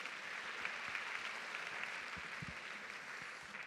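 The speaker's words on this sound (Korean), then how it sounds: "멋진 강연 해주신 교수님께 다시 한번 큰 박수 부탁드립니다" An audience applauds after a public natural science lecture at Seoul National University, giving a fairly faint, steady round of clapping that fades slightly toward the end.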